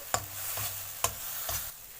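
Ingredients frying in oil for chili-leaf greens crackle softly under a spatula, with three or four sharp stirring scrapes spaced about half a second apart over a quiet sizzle.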